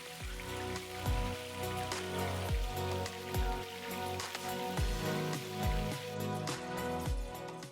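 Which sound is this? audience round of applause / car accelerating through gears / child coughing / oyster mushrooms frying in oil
oyster mushrooms frying in oil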